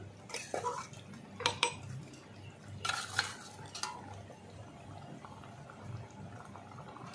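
Small charapona fish go into a simmering pot of pui shak and potato curry, with a few sharp clinks and clatters of utensil against the pot over a soft, steady bubbling background.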